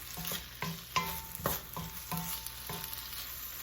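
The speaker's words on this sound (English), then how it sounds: "Add our onions into our wok." Onions stir-fry in a wok, with a steady sizzle under about eight evenly spaced scrapes and taps of the spatula, close and moderately loud.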